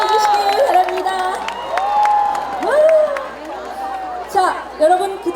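A concert crowd cheers and whoops with scattered applause, children's shouts and bright high calls rising over a dense, steady roar that swells near the end.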